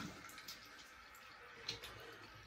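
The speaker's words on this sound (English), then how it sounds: "Get a good warm water rinse." Warm water splashing and rinsing over a face after a wet shave, a steady faint wash of running water with small splashes, close and quiet, no voices.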